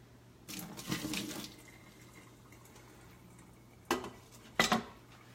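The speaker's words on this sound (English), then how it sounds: "there's gonna be water in the bottom of your pot. So I just take the water off." Water is poured out of an Instant Pot's inner pot after cooking cauliflower in a short splashing burst, followed by a couple of sharp metallic clanks of cookware nearby.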